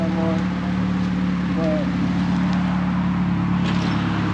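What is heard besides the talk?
car with new single exit exhaust running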